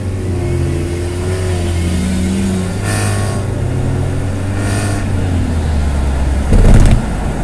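A Honda Civic in a braking test, its engine droning loudly and steadily from inside the cabin while it accelerates from 60 km/h, with a brief surge of louder noise near the end.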